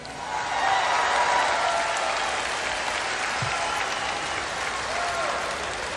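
A crowd applauds steadily, a dense wash of clapping that swells early and carries on at moderate distance without letup.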